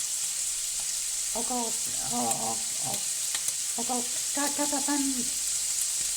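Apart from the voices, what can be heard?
onions and chicken livers frying in a pan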